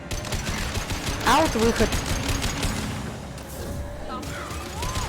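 Gunfire in the video game Mass Effect 2 comes as a burst of shots among game effects, with someone talking over the action.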